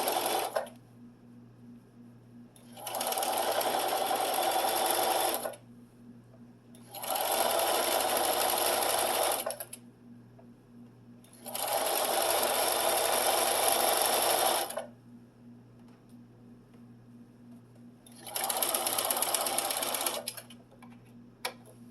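A sewing machine stitches a quilted Halloween table runner of bats and boos, sewn with black bobbin thread, in four loud, close bursts of a few seconds each, separated by pauses where a low background hum remains.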